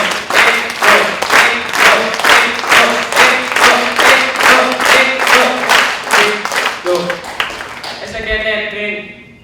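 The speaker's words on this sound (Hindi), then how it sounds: "ऐसे ऐसे हाथ की गति पर आपको तालियां बजानी है" A crowd at an education conference claps together in a steady, even rhythm, loud and close, with a few voices mixed in before the clapping breaks up at the end.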